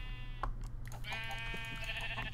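One drawn-out bleat from a sheep in Minecraft, close and clear, rising over constant low background hum.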